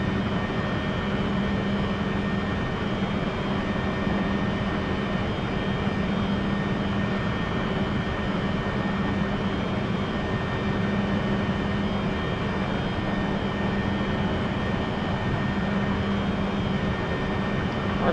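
Jet engine of an XCrafts E175 airliner in the X-Plane 11 flight simulator, climbing after a steep takeoff from Burbank, a steady loud roar with a constant hum and no talk.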